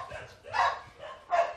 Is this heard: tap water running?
no